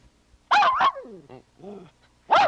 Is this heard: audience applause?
no